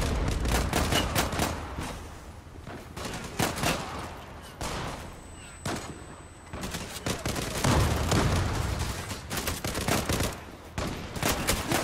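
Repeated gunfire in the online shooter Zula, played with a pump shotgun on a team deathmatch map: loud shots and bursts come densely throughout, with no talk.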